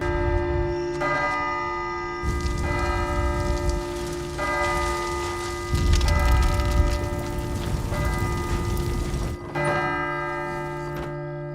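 A church bell in the Midnight Mass episode tolls in long, sustained ringing strikes that overlap and sustain throughout, loud and resonant, with steady rain or hiss underneath and no talking.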